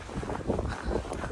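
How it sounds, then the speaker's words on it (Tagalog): Gusty wind buffeting the microphone outdoors beside a road in Canada, a rough, uneven rush at moderate level with no voices. "Ang hangin."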